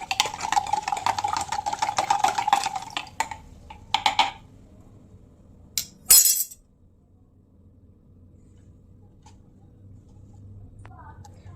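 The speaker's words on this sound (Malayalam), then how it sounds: "ഒരു സ്പൂൺ കൊണ്ട് നന്നായി ഇളക്കി ഉപ്പിൻ്റെ അംശം ഇതിൽ കാണാൻ പാടില്ലാത്തവിധം ഉപ്പ് ഇതിൽ ലയിച്ചു വന്നിട്ടോ" Metal spoon stirring salt into water in a glass, rapid clinking in a burst for several seconds, then a few separate clinks, followed by quiet.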